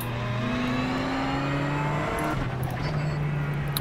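A race car engine drones steadily in the iRacing sim while driving, a loud continuous tone that holds its pitch, then dips and climbs again with a gear change, with no talking over it.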